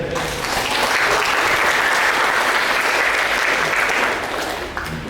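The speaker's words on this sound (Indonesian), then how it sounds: "Kita beri aplaus ini." An audience at a school Pancasila ideology and national awareness session bursts into loud, sustained clapping that holds steady for several seconds, then gradually fades.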